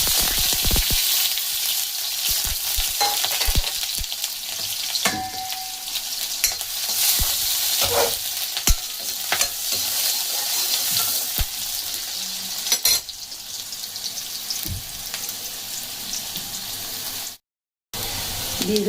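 Onion sizzles steadily in a frying pan as pasta is prepared, with frequent scraping stirs and clinks over a continuous hiss, briefly cutting out near the end.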